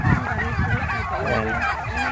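Large turkeys, newly let out, call in a dense, continuous chorus of honking, gobbling cries close by, with a voice faintly mixed in.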